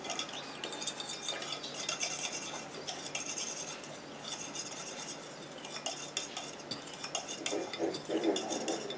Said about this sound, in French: Et je mélange jusqu'à ce qu'elle soit complètement fondue.